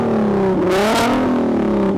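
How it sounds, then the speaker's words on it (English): R32 car engine revving hard at close range, a loud continuous growl that climbs and dips in pitch across one rev. "Now let's have a listen to your R32 engine, Miguel."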